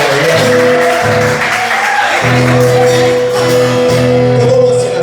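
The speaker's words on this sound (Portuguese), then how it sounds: "salva de palmas pro Gabriel aí." A crowd claps in a steady wash of applause over sustained organ-like music chords.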